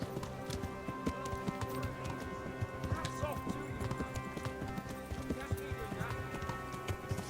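Horse hooves clip-clop steadily in a medieval role-playing video game while a voice talks over them, the hoofbeats sitting under the dialogue alongside faint background music.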